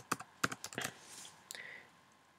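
A computer keyboard clacks in a handful of quick, close keystrokes with a short pause before a final press, quiet and alone.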